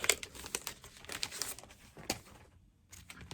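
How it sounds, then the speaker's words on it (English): An old price sticker being peeled off a record sleeve: close, crackling and crinkling paper sounds in several short bursts, with a brief quiet pause near the end. "Let me just peel off the previous price."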